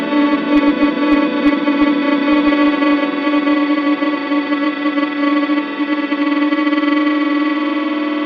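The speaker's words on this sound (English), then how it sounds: "We're going to listen to the feedback and hear how that interacts." Feedback from a Pladask Elektrisk Fabrikat effects pedal: a dense, distorted electric drone with layered pitches holds steady and loud, smeared with chorus-like wash and echoing texture throughout.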